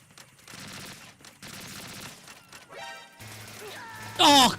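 Gunfire in Metal Gear Solid 2 during a speedrun: scattered shots and clatter under quiet game sounds, ending in a loud burst of sharp electronic tones near the end.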